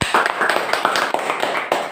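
Students in a classroom clap for a classmate, a quick run of close, sharp claps in a steady rhythm over about two seconds.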